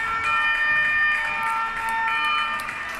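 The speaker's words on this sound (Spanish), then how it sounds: "Viene Protección Civil, Cruz Roja, la ambulancia y mirar con las sirenas." Emergency vehicles, including a civil protection unit, a Red Cross ambulance and another ambulance, pass along a street in Valencia with sirens wailing, several steady tonal wails layered together and fairly loud throughout.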